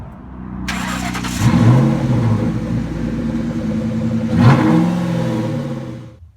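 A 1998 Mustang Cobra engine starts and revs twice, each rise loud and close over a steady running rumble, with no talking.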